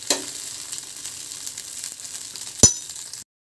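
Rava dosa fries on a pan with a steady, close hiss of sizzling batter, broken by a single bright clink of a utensil near the end before the sound cuts off.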